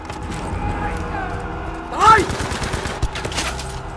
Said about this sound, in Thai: ยิงถังน้ำมัน